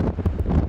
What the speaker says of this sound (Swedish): Sen har det börjat blåsa och nu har det blåst över ett dygn.